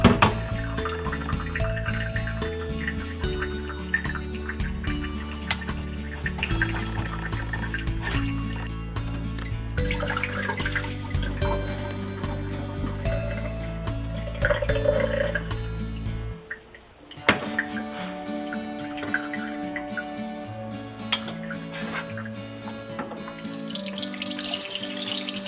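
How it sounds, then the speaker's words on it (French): Tap water runs steadily into a sink while sprouts are rinsed, with a continuous splashing stream that cuts off briefly partway through, then resumes with trickling and dripping. "Là, il faut rincer plusieurs fois."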